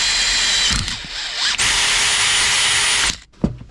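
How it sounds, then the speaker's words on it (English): A power drill with a 4mm bit bores a pilot hole for an armrest mount in a VW T5 van, whining loudly for a few seconds in two short bursts, then stopping with a brief clunk. "Then I'm going to drill there."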